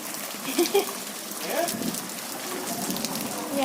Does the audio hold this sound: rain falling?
yes